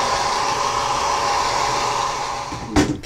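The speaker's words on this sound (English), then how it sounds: "now we're going to dry this." A hair dryer blows on wet watercolor paint, giving a steady, close whirring rush that holds throughout, with a brief bump near the end and no talking.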